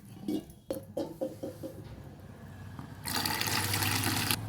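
Sago pearls are rinsed in a wide pan, with soft sloshing and splashes at first, then a steady, louder rush of water pouring off as it drains for the last second and a half.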